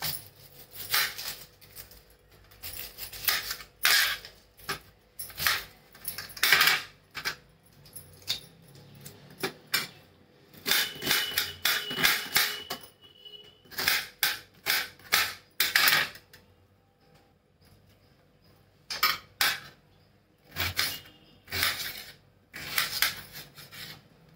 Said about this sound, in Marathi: एक कांदा घेतलाय मोठा, आता तो पण चिरून घेते।